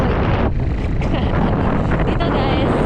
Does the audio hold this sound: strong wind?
yes